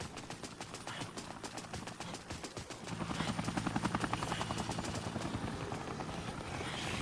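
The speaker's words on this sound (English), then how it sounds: "now we got a helicopter in the park now" A helicopter hovers over a park in the video game Dead Rising, its rotor beating in a rapid steady chop that grows louder and fuller partway through and continues for several seconds.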